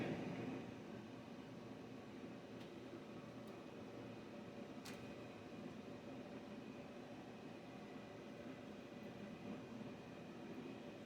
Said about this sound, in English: what you hear is actually the air fryer heating up.